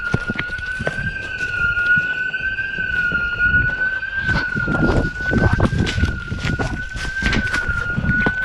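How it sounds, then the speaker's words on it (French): A building alarm wails loudly and continuously with a single steady high tone, with rustling, movement and footsteps close by underneath. "l'alarme retentissait vraiment très fort"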